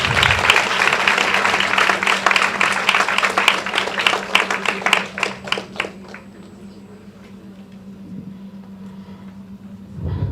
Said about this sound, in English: Let's give a huge round of applause to all the participants.